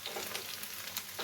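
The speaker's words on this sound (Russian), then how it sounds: "Все, лучок зажарился." Onions frying in a pan give a brief, steady sizzle, close and fairly quiet, with a few faint stirring scrapes and no talk.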